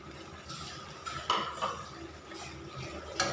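Catfish curry with holy basil being stir-fried in a pan, a spatula scraping and clinking against the metal in a few uneven strokes over a faint background sizzle, close by with no talk.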